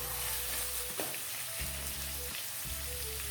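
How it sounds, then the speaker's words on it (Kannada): Tomato with turmeric powder fries in a little oil in a pan, giving a steady close sizzle with soft bubbling crackles and occasional stirring scrapes, with no voices. "ಒಂದು ಸ್ವಲ್ಪ ಎಣ್ಣೆಯಲ್ಲಿ ಟೊಮೆಟೊ ಎಲ್ಲ ಸಾಫ್ಟ್ ಆಗೋವರೆಗೆ ಹುರ್ಕೋಬೇಕು"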